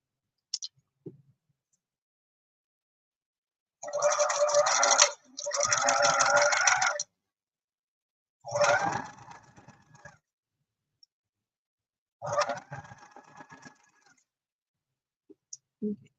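A sewing machine stitches fabric over a bulky seam in several separate bursts of rapid, close mechanical whirring, with quiet pauses and faint handling clicks between runs.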